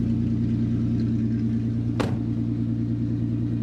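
An MK4 Volkswagen R32 with a DSG conversion, running without immobiliser or clocks, cranks and fires on its first start-up with a sharp burst about halfway through. A steady, loud engine hum continues before and after it, with no talking.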